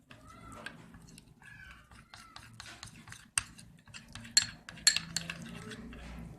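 Thin flour batter being mixed in a bowl with a spoon, quick irregular scraping and clinking strokes up close, with a couple of sharper metallic taps near the end.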